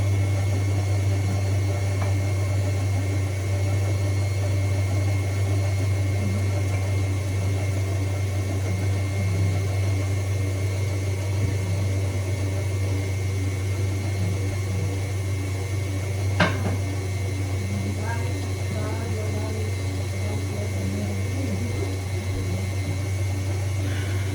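An electric mixer beats butter for baking in a home kitchen, a steady, loud whirring drone with a low hum that runs unbroken throughout.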